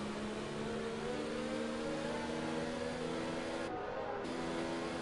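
A Formula race car engine in a racing video game at a China round holds a steady, high, whining drone with a brief dip in its upper edge partway through, continuous and unbroken.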